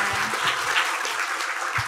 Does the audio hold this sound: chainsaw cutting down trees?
no